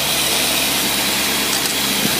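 A car engine fitted with a Carter carburetor idles steadily and close by, a constant low rumble holding even with no talk over it.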